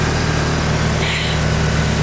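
Mitsubishi Evo engine idling outdoors in snowy weather, a steady close rumble with a constant low hum and a brief higher hiss partway through, no talking.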